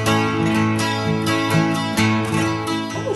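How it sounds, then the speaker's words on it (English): A handmade Smith guitar rings out in a few strummed, sustained chords with bright, rich overtones, played alone and close. "This is the sound of a Smith guitar."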